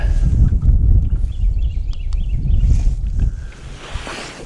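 Wind buffets the microphone on open water around a small fishing boat out for crappie, a loud, gusty low roar with faint water and hull noise underneath that eases slightly toward the end.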